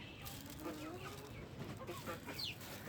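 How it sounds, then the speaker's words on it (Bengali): Hens crowd for a morning feed of small river fish, clucking faintly in a loose, scattered chorus with some voices in the background. "এই যে এটা এখন খাবে মুরগিগুলা, সব ভিড়ে চলে গেছে।"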